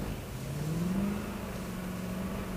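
Mercedes-AMG car engine holding a steady rev that rises slightly and sustains while drifting on a track, continuous and fairly close with no talk.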